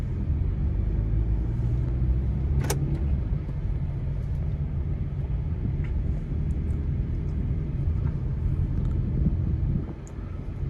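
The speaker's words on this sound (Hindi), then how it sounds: "ये मैंने रोड पे निकाल लिया गाड़ी।" A car drives along a narrow single-lane road, heard from inside as a steady low engine and road rumble with a sharp click partway through and a slight dip near the end.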